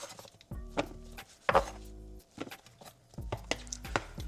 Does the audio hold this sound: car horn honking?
no